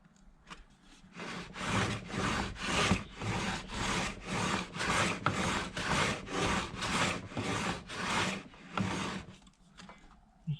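A Carter No.7 jointer plane taking thin wood shavings, heard as a steady series of about a dozen rhythmic rasping strokes, close and fairly loud, with no talk.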